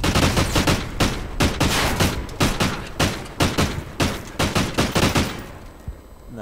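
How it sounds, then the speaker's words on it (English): Rapid video-game gunfire rattles in loud, closely spaced bursts of shots, a dense fusillade that thins out and stops near the end. "That was a necessary shooting, Gregor."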